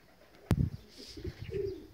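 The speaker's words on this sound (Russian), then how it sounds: "Так, ну голубей я нашел." Pigeons cooing outdoors, a sharp knock or flap followed by a few soft, low coos, faint and somewhat distant against quiet background noise.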